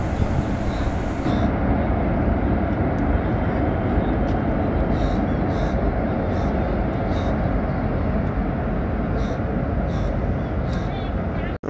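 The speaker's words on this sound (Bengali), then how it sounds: "এই যে ব্রিজের উপর দিয়ে কিন্তু ট্রেন যাচ্ছে এখন" A train rumbles across a bridge over the river at Prayagraj, a continuous heavy broadband roar lasting throughout at moderate distance.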